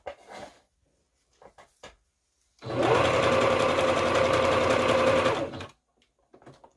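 A home sewing machine runs in one steady, loud burst of stitching for about three seconds while sewing a collage fabric roll, with brief handling noises and quiet pauses on either side.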